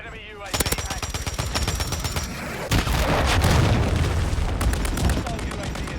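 Call of Duty MW3 multiplayer match on the Rust map with rapid gunfire bursts and a booming grenade explosion mid-clip, followed by continued shooting, with voices calling out over the action.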